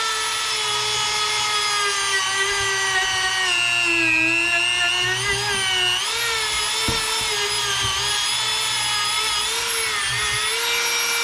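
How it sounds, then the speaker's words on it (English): Rotary tool with a felt polishing pad buffing vintage Airstream trailer letters, a steady high-pitched whine with layered harmonics that shifts pitch slightly as pressure changes, loud and continuous with no talking. "And then we'll start with the polishing now."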